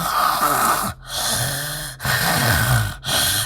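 A voice imitates heavy, labored breathing: four loud, rasping breaths with a snoring, wheezy quality, each lasting about a second, separated by short pauses.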